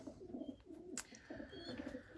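Young racing pigeon, a hen, cooing in a loft: soft low repeated coos in two phrases, close and fairly quiet, with a brief higher chirp in between and no talking.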